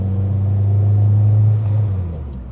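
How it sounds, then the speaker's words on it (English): A supercharged 340 hp Honda Civic Si engine revs up with a deep, throaty rumble, holds briefly, then drops back quickly toward idle. "it drops the revs really quick"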